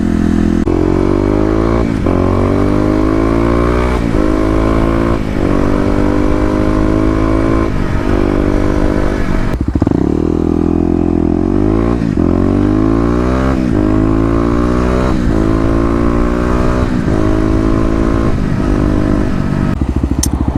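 A Kawasaki KLX250 motorcycle with EJK fuel tuning revs hard through several rising gear pulls, its engine note climbing, dropping at each shift and climbing again, loud and close with steady wind noise throughout.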